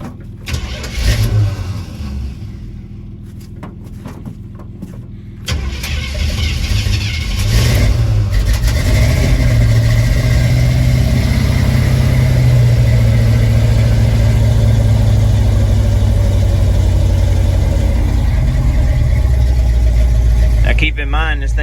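A slammed, cammed Chevrolet C10 square body truck with no choke cranks briefly, then fires and settles into a loud, steady, loping idle that fills the rest of the clip, with a few short bursts of talk near the start.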